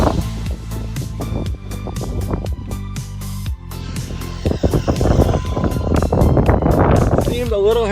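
Rlaarlo X12S RC car on a stock battery during a full-throttle speed run, at about 66 mph: a motor whine rising and surging under outdoor wind noise, with a person talking over it.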